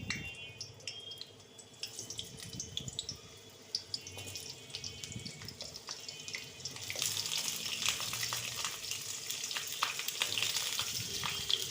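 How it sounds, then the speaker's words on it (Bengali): Small baby potatoes frying in oil in a wok, a quiet crackle early on that swells into a louder, denser hiss of sizzling, with occasional stirring knocks and no voices. "আলুগুলো দিয়ে হালকা হালকা করে ভেজে দিচ্ছি।"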